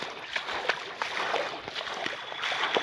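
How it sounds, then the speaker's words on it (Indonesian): Water splashes and sloshes around legs as someone wades across a river on the way to a campsite, with irregular steps through the current over a steady rushing stream. "Kita jalan lewati sungai."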